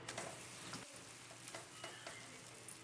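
Rice flour ghavan crepe frying in a hot pan, a steady close sizzle running throughout with faint soft ticks and pops and no talk.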